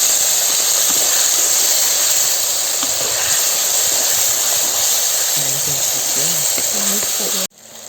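Ground tomato paste hitting a hot pan with cooked onions for village-style squid noodles gives a loud, steady hiss and sizzle that runs for several seconds, then cuts off abruptly near the end.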